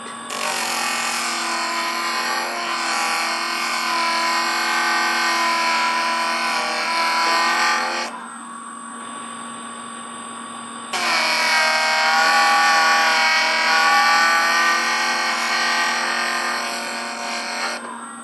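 An opal is polished on a Jooltool X wheel, a loud steady high-pitched whir of the spinning wheel and stone, briefly dropping to a quieter hum midway before resuming at full level.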